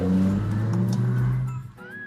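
A BMW M5 engine revs with a deep, throaty growl through its air filters that rises and drops over a couple of seconds, close by.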